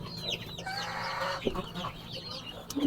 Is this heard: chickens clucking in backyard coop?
yes